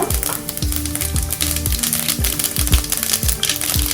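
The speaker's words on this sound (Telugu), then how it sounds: "ఈ ఆయిల్ కొంచెం హీట్ ఎక్కిన తర్వాత 1/2 టేబుల్ స్పూన్ ఆవాలు, 1/2 టేబుల్ స్పూన్ జీలకర్ర," Mustard seeds and cumin sizzle in hot oil in a kadai, a close, continuous hiss crowded with sharp popping and crackling as the seeds spit and jump.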